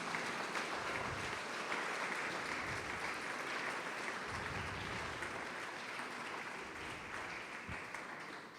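A church congregation applauds to glorify Jesus during a sermon, a dense, even wash of clapping from many hands that holds steady throughout, moderately loud with no talking over it.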